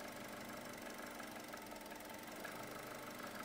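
A car engine idles with a steady, faint, even hum and a fine knocking texture during a fuel injector cylinder test, heard alone with no talking.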